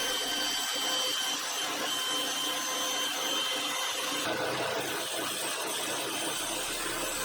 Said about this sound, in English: So over to the bandsaw to cut out those shapes.